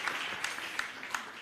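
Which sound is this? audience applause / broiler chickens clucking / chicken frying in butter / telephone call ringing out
audience applause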